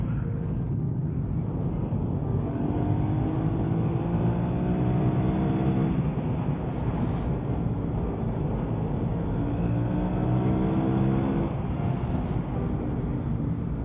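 A motorcycle ridden on a sunny day, its engine droning loud and steady with shifting pitch and heavy wind rush throughout, no talking.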